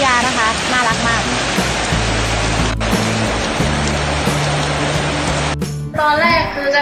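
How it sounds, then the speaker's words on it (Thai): Heavy rain pours down in a steady, dense hiss outside a school where a traffic police officer shelters children, loud and continuous with a low engine-like hum beneath and brief voices at the edges. "ตอนแรกคือจะถ่ายเหตุการณ์ฝนตกอะค่ะ"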